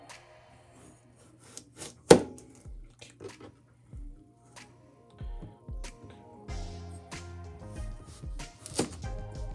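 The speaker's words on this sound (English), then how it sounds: "Be very careful, as thin as possible, slice as thin as possible." A knife slices pork thinly on a cutting board for Harbin-style guobao rou, making a series of soft, irregular cuts and taps, close and fairly quiet, with a few sharper knocks.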